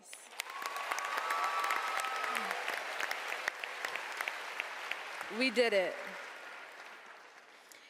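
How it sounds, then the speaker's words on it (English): At a high school graduation ceremony, the crowd gives the class of 2018 a soft round of applause with scattered claps, while nearby voices speak over it and a brief exclamation rises near the end. "I would just like to give the class of 2018 another round of applause."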